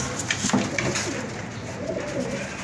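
Racing pigeons cooing after coming back from a hard race, soft repeated coos near and clear over light background ambience.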